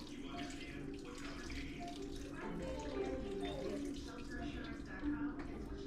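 Beef broth, about 15 ounces, pours into a pot of venison and beer chili, a steady liquid splashing and gurgling that runs for several seconds with some background talk.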